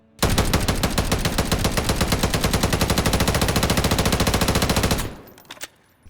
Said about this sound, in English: the Sidewinder got a reduction to its recoil and gun kick while firing